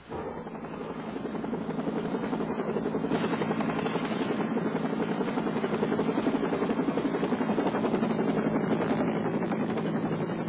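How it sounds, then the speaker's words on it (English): A Life Flight rescue helicopter's rotors thump in a loud, continuous chop as it arrives, steady and close throughout, with no talking. "The Life Flight helicopter arrived from Portland in less than 15 minutes."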